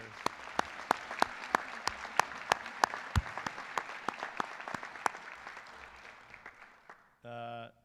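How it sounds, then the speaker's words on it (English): Audience applause for engineering inductees at a high school honor society induction ceremony, scattered clapping with distinct sharp claps standing out over a thinner crowd, fading away before a brief voice at the end. "Round of applause for our engineers."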